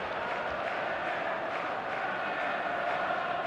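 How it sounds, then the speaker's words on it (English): Dense, steady roar of a large stadium crowd in the eFootball video game on a clear evening in an imposing arena, a continuous wash of massed voices with faint swells of cheering and no clear speech. "all the ingredients for a showcase game that the passionate crowd demands"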